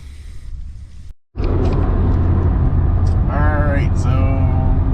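Car cruising on a highway after a fill-up, steady loud engine and road rumble with a brief dropout near the start, then continuous drone with a faint rising whine later.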